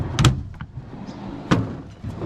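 Drawers in the rear storage setup of a Ford Ranger ute slide and clunk shut, with two sharp knocks about a second apart over a low rumbling background.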